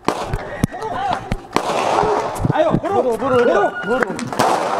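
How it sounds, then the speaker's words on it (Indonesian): Police warning shots ring out during the arrest of a motorbike thief in Bangkalan, East Java: several sharp, loud pops spaced irregularly across the clip, heard under excited shouting and talk. "polisi melepaskan tembakan peringatan saat meringkus pelaku curanmor di Bangkalan, Jawa Timur"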